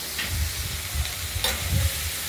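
Finely chopped ash gourd sizzles in a wok over a tempering of nigella seeds, garlic and green chilli, a steady hiss punctuated by soft stirring scrapes, close and without talk.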